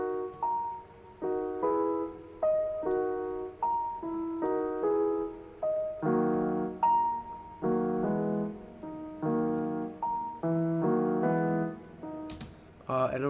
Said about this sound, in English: Next up, I added this piano from Contact.